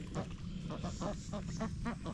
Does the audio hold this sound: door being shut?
no